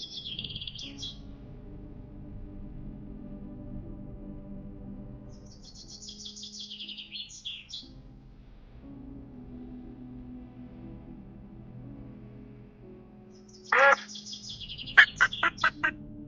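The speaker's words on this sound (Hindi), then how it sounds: "तभी उसको किसी पंछी के तड़पने की आवाज आई।" A bird in distress gives sharp, high cries in short bursts, separated by long pauses, with a faint low hum in the background; the last cries are louder and more agitated.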